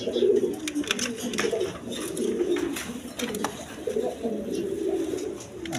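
Red Bombay pigeons, a pair brooding two eggs, coo steadily in low rolling phrases throughout, close and continuous, with a voice talking faintly at times.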